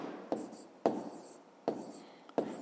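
A pen marking on paper during a fifth-grade maths lesson, four quiet scratchy strokes spaced through a short, hushed stretch with no voice.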